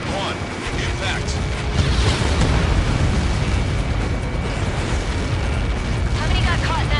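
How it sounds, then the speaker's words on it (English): A massive explosion in the aerial combat game Ace Combat 7 gives a sustained, loud roaring rumble with crackling debris that fills the whole stretch, and radio voices are faintly mixed in. "How many got caught in that explosion?"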